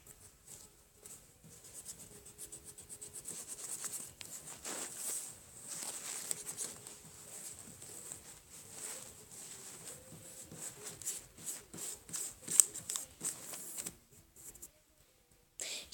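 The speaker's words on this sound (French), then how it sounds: "On va gommer toutes les petites imperfections." An eraser rubs back and forth on paper while small imperfections are cleaned up on a customised tape dispenser craft, making faint, quick scratchy strokes in an irregular rhythm. The sound is close and quiet, with no speech.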